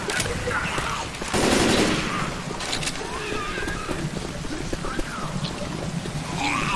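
Rapid gunfire from a zombie shooter game, Left 4 Dead 2, with busy bursts of shots running through the whole stretch over loud, cluttered game noise and faint voices.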